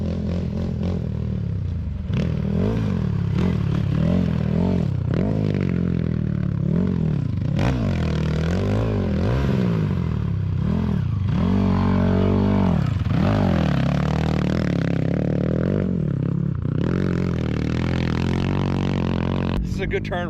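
Race motorcycles on the Baja 1000 course in Mexico during the 2023 event, engines droning and rising and falling as they pass close by, with people talking over the noise throughout.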